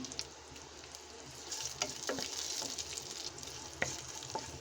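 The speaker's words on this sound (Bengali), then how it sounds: "এখন ডালটা বাগার দিচ্ছি। রসুন দিয়েছি, কালো জিরা দিলাম।" Garlic and nigella seeds sizzle in hot oil as a tempering for a thin dal made with elephant apple, a steady, soft crackling hiss with a few sharper pops scattered through.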